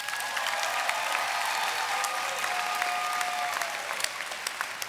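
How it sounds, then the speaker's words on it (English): A convocation ceremony audience claps together in a full, continuous round of applause, bright and even, lasting the whole stretch with no speech. "Give your neighbor a round of applause."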